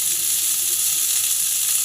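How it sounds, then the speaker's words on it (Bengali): Cauliflower florets frying in hot oil until reddish-brown crackle and sizzle in a loud, steady wash of bubbling, with faint stirring and no voices. "ফুলকপিগুলোকে ভেজে তুলে নেব।"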